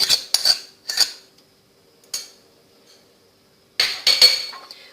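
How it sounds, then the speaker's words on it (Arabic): Spoon clinking and scraping against a bowl while rice is mixed with mayonnaise for a Moroccan rice and vegetable salad, a few sharp bursts of clatter separated by quiet pauses, close and without talk. "اول حاجه غادي نخلط الرز، غنضيف له المايونيز"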